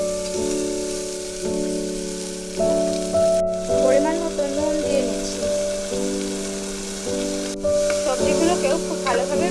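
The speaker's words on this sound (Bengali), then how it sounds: "খুব ভালো করে এগুলোকেও ভাজা করে নেব" Carrots and peas frying in ghee give a steady crackling sizzle close by, with stirring scrapes and a persistent background tone throughout.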